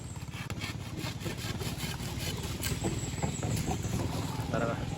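Bamboo being cut while a boat pushes through a floating water-buffalo pen, with rhythmic sawing and rubbing strokes close by and a voice speaking over them.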